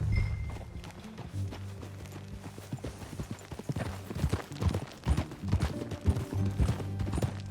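Horse hooves clip-clop in a steady trotting rhythm while riding in Red Dead Redemption 2, fairly close and clear over a low music bed, with no talking.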